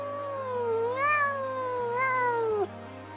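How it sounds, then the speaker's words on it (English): A domestic cat meows twice in a row, a drawn-out, wavering call heard close and fairly loud over a steady low background hum, with the second cry ending abruptly. "Cat, C-A-T, cat."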